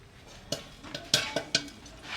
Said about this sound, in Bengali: এই ঢাকনাটা আমি এইরকমভাবে খুললেই দেখা যাবে।